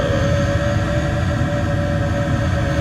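A spacecraft takes off in the Stargate Network simulation game, producing a loud, continuous engine roar with a steady droning hum that holds evenly throughout, with no voices.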